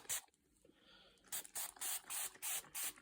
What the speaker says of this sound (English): Now I'm just going to spray them a little, just kind of coat them.